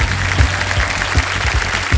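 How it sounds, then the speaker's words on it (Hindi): A studio audience on a TV quiz show, Kaun Banega Crorepati, claps loudly and continuously as dense, steady applause with no voices over it. "तालियां बज जाए इनके लिए।"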